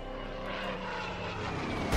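A steady propeller airplane engine drones from an Italian warplane in the strategy game Order of Battle: Sandstorm, holding a constant mid-level roar with no talk over it.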